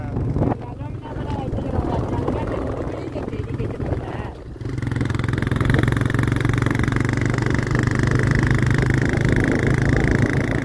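Motorbike riding along a rough road through dense forest, its engine droning loud and close throughout with rumbling road noise, a brief dip midway, then a steadier, stronger engine tone.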